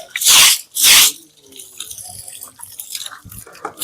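Water is flung and splashed across a floor while an ashram is being washed: two loud, close bursts of water, followed by quieter trickling and scraping.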